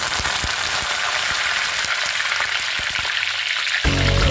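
Urad dal, dried red chillies and curry leaves crackle and sizzle steadily in hot oil for a tempering, a dense continuous frying hiss with small pops, growing louder and harsher near the end as more goes into the pan.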